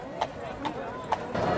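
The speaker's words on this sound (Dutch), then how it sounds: "een prachtig rijtuig met een mooi paard ervoor" Hooves of a horse pulling a carriage clip-clopping at a steady trot, several distinct clops under a voice talking over a speaker system at a carriage show.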